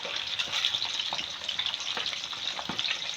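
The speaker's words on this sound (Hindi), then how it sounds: "और अब मैं कर रही हूँ फ़िश फ्राई।" Pieces of fish fry in oil with a dense, steady sizzle and light popping, close by and fairly quiet, with no one talking.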